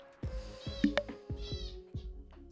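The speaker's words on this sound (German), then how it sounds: "Meine Vögel drehen auch gerade wieder durch." Pet birds in a room call out in quick, excited bursts: several short, tonal squawks and chirps, close by and fairly clear, with a faint hum underneath.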